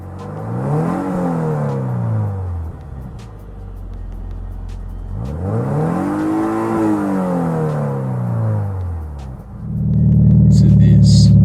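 A Toyota GT86 with stock exhaust revs twice in long, smooth rising and falling sweeps, idling steadily between them, before a louder rumble kicks in at the end.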